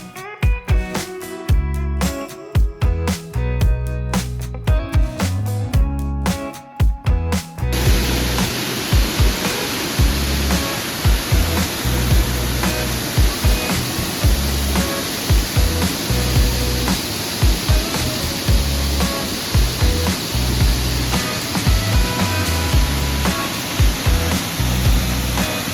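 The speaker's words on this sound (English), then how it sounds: "A 45-foot waterfall thunders down at the head of the flume" Avalanche Falls, a 45-foot waterfall at the head of Flume Gorge in New Hampshire's White Mountains, roaring as a dense, constant rush of water that sets in after a few seconds of music and stays loud and steady.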